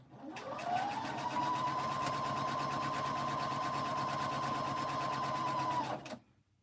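A sewing machine runs in one continuous burst, chain stitching pink baby quilt blocks; the motor spins up, holds a steady whirring hum with rapid needle clatter for about five seconds, then stops.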